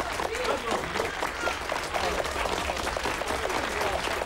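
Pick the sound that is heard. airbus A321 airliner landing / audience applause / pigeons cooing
audience applause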